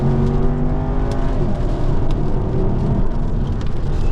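A Jaguar car engine revs up hard and loud, its pitch climbing as it accelerates, with road and wind roar filling the background.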